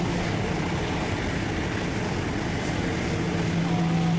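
A navy hovercraft flying by near a sailboat, a broad, loud roar of engines and propellers mixed with wind and water noise, steady throughout the short stretch.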